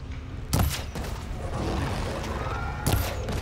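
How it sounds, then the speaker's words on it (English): Deep explosions echo from inside a mine in the video game Horizon Forbidden West, two sharp booming blasts about two seconds apart over a rumbling background. "An explosion?"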